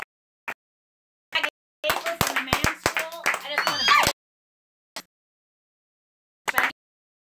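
A burst of clapping from a small group swells and fades over a couple of seconds, with isolated claps and short sounds before and after.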